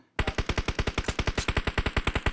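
Heavy machine gun firing in PUBG Mobile, a loud close burst of rapid, evenly spaced shots that starts abruptly and keeps going without pause.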